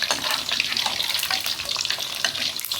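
Marinated minced pork mixed with glass noodles deep-frying in hot oil gives a steady, dense, close sizzle and bubbling hiss with no pauses and no talking.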